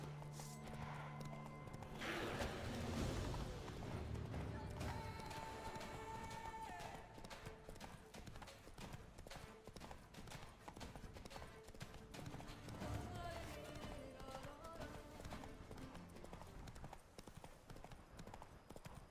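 Roach, a horse in The Witcher 3, trots with a steady clip-clop of hooves, brisk and close, under game music and a short burst of other sounds early on.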